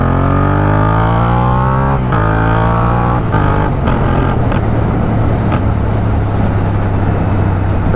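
A Yamaha MT-07 motorcycle engine pulls steadily while riding on a closed road, a loud close drone rising in pitch through gears with brief shift dips, no talking.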